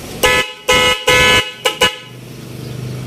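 Stock horn on a TMX 125 motorcycle honks five times, three longer blasts and then two short quick ones, loud and close, before a low engine idle continues alone.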